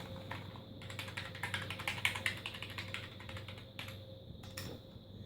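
Rapid, uneven key clicks from a clip-on numerical keypad being typed on, close and moderately loud over a steady low hum, with a few sharper taps standing out.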